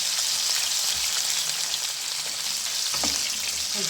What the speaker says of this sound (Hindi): तो आप देखते हैं चिकन हमारा फ्राई हो रहा है साथ में।